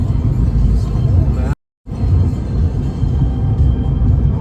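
A car's interior carries a continuous low engine rumble and road drone while someone drives, interrupted briefly by a moment of silence. Voices are present in the cabin.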